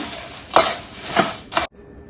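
Salted poha chivda is stirred in a pan, giving three scraping, rustling sweeps of flakes against metal with short pauses between, close and clear, before going quiet.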